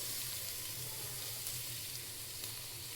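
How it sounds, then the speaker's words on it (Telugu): Onion, capsicum and carrot fry in a pan for egg noodles, giving a steady, close sizzle that stays even and unbroken throughout. "ఇప్పుడు దీన్ని మంచిగా ఫ్రై చేసుకుందాం."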